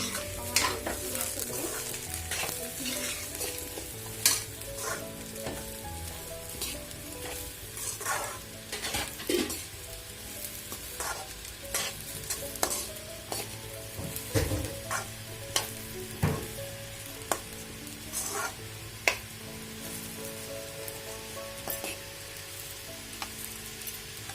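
Food sizzles steadily in a hot pan while a utensil stirs and scrapes through it with irregular clinks and taps.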